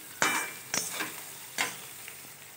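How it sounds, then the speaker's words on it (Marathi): Mustard seeds, cumin, potato, onion, curry leaves and peanuts frying in oil in a kadhai, stirred with several sharp scraping strokes over a soft steady sizzle, close and alone. "कढईत टाकलेले मोहरी, जिरं, आलू, कांदा, कढीपत्ता आणि शेंगदाणे हे सगळं हलवून घ्यायचं तेलात टाकून"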